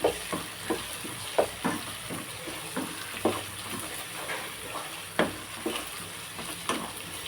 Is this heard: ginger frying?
yes